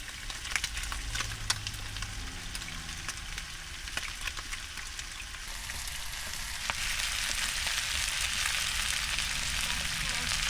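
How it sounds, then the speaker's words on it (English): Onion and garlic sizzle with beef in a pot for borscht on a van stove, a steady, close crackling hiss that grows slightly louder and denser toward the end. "I'm going to toss in the onion and garlic."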